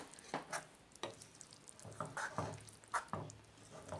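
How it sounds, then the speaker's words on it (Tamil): Cooked lentils being stirred into drumstick leaves in a pan, a few soft wet scrapes and spoon taps against the metal, quiet and irregular with pauses between strokes. "வேக வச்சுற பருப்பு வந்து முருங்கைக்கீரையில் ஊற்றிடலாம் இப்போ நல்லா மிக்ஸ் பண்ணிக்கலாம்"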